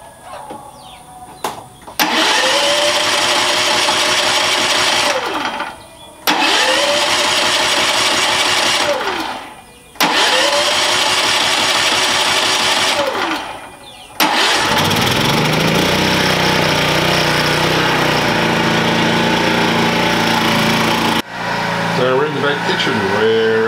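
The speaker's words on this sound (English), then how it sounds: "First, I need to start the generator" A portable generator cranks through three loud bursts of engine noise with short pauses between them, then catches and keeps running steadily at close range.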